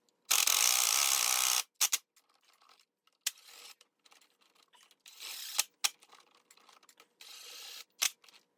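Bursts of ratcheting from a ratchet snugging up bolts on a Polaris 700 engine, with a long opening run followed by shorter intermittent clicking passes, close and fairly loud with no talk.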